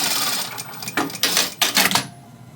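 Sewing machine stitching a microwave popcorn bag in short bursts, clattering on and off with brief pauses, close and fairly quiet, then stopping near the end.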